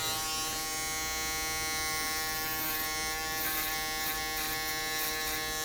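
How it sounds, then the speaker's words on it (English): Electric box shaver buzzing steadily and loudly up close as it cleans up a haircut line on dark hair in a barber shop, a continuous even drone with no talking. "Now I'm going to use the box shaver to clean up that line."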